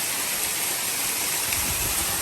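A jungle waterfall roars as a steady, dense wash of rushing water, loud and continuous and unbroken by any voices.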